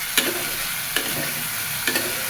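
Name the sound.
potatoes being stirred and fried in a pan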